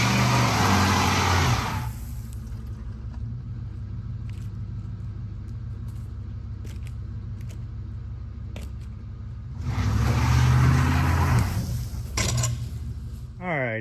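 A car engine revs hard as the vehicle strains to pull away while stuck, with a loud rumbling burst at the start, a quieter steady idle in the middle, then a second strong rev near the end.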